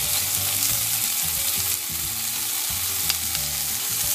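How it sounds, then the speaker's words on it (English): Vegetarian chow mein with chili sauce and oyster sauce sizzles and fries steadily in a pan while being stirred, a continuous loud hiss with soft scraping throughout and no talking. "And we're also going to do a stir here."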